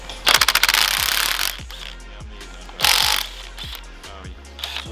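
A ratchet loosens a connecting rod cap on a Foxbody Mustang engine, with fast close-up clicking bursts followed by slower individual clicks and pauses.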